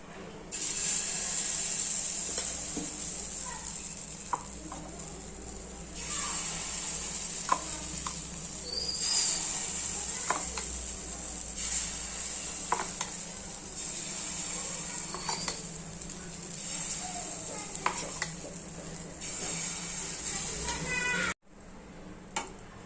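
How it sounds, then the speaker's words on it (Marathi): Small idli-style dosas cooking on a hot tawa griddle give a steady, close sizzle with a sustained hiss, plus occasional light clicks and taps throughout; it stops abruptly near the end. "आता आपण पटकन छोट्या छोट्या इडली बनवून घेऊया. ना छोट्या छोट्या इडली डोसा ताव्यावर बनवत आहे."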